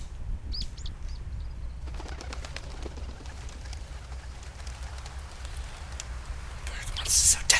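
Wings flap in quick bursts in the video game A Bird Story, with soft fluttering sounds that come and go over a low steady hum.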